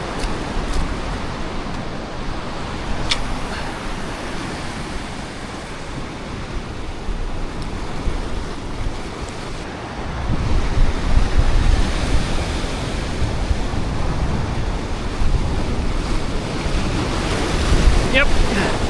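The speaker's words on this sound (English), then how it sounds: "There's a lot of water moving out there, there's a current." Ocean water surges below a high cliff, with a strong current moving offshore. A continuous broad wash of surf and wind noise swells louder halfway through and carries on steadily, with no one speaking.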